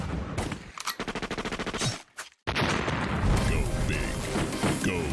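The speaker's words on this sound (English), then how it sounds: "Like the sound of big booming 4v4 friend fragging action?" Rapid bursts of automatic gunfire are followed by a brief silence and then a dense stretch of explosions and shooting from the Guns of Boom video game, with a voice speaking over the action.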